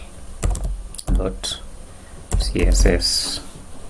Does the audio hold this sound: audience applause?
no